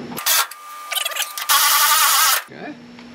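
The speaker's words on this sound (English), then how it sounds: "I just remembered I have a battery-powered ratchet." Battery-powered ratchet tightening sway bar links on a Firebird, with short loud whirring bursts close by, the longest near one second, broken by brief clanks and pauses.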